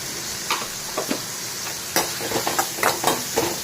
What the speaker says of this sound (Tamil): கொஞ்சம் உப்பு போட்டுக்கலாம் வெங்காயம் வதங்கிறதுக்கு.